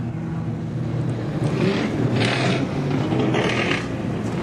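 A loud street stock race car engine drones unevenly at Gympie Speedway, with a rough, sputtering mechanical rattle that swells and fades a few times.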